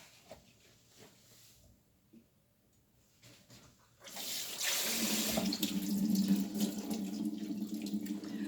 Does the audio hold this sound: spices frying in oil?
no